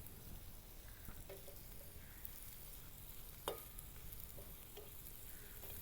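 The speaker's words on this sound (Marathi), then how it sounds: "पण कांदे छान असे तांबूस भाजून घेणार आहोत" Onions for veg bhurji fry slowly in an iron pan, a faint, even sizzle with a few soft spatula scrapes and clicks, quiet and steady with no talk.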